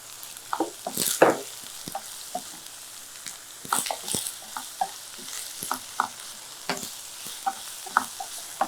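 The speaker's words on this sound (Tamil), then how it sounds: "இது இப்போ நல்லா வதங்குது." Ginger and garlic sautéing in a pan, with a soft continuous sizzle and repeated scraping stirs of a spoon, close and fairly quiet, no talking.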